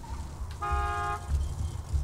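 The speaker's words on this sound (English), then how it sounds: "Just drive up and honk your horn." A car horn in Borderlands 2 sounds one sustained honk of about half a second, a bright stacked tone standing out over a low rumbling vehicle engine.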